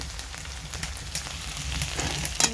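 Onion paste frying in oil in a pan for a stingray and potato curry, giving a steady close crackling sizzle with scattered pops throughout and no voices.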